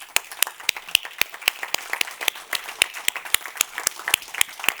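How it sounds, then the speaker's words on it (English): Clapping from an audience at the closing of an event, made of distinct sharp claps in a loose, uneven rhythm, fairly close and moderately loud, with no talking over it. "Another round of applause."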